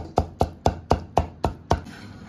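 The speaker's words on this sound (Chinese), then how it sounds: "把它剁碎。" Blanched chives are chopped finely with a knife on a board: seven sharp, evenly spaced chops in a quick steady rhythm, close and alone.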